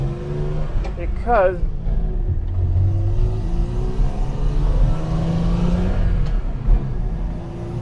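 A fuel-injected engine in an old cheap tow truck accelerating with a moderate, rising rumble inside the cab, while someone talks over it almost continuously.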